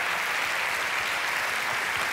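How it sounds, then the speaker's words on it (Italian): An audience applauding at an Italian television interview show, dense steady clapping that fills the whole moment, loud and unbroken. "Applauso."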